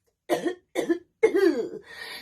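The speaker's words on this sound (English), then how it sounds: "Why am I coughing? Am I sick?" Three close, distinct coughs in quick succession, the last one longer and trailing off.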